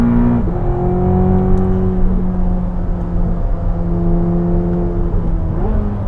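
A 1,064 hp Corvette ZR1 convertible accelerating on the Circuit of the Americas track, a loud steady engine drone heard from inside the car, the pitch climbing through gears with brief dips at each shift.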